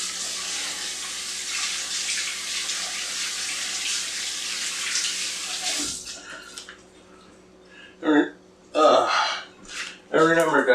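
Asparagus washed under a steadily running kitchen tap, loud continuous rushing water for about six seconds, then the flow stops and a voice speaks with a few short sounds in between.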